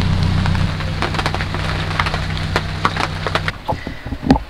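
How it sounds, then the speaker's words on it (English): Rain falls on a narrowboat on a canal, with dense irregular pattering and ticking drops on the hull and roof. A low steady hum runs underneath for most of the clip before fading, and the drops grow sharper near the end. "It's still raining."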